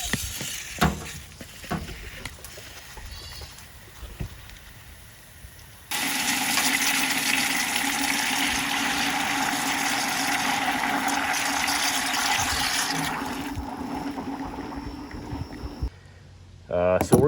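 Water rushes and gushes steadily through a blocked drain tile pipe for several seconds, preceded by scattered knocks and handling noises, with a voice speaking at times.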